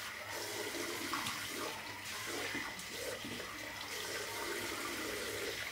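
Water runs steadily from a bathroom tap for several seconds while a freshly shaved face is rinsed, a continuous close splashing hiss with no talking.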